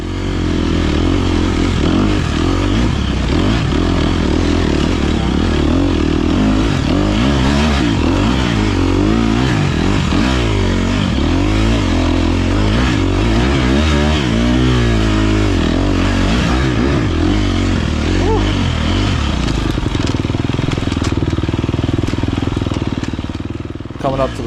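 A dirt bike engine roars close and loud throughout a Gnarly Nutmeg A250 off-road race, revving up and down continuously as the rider works through the terrain.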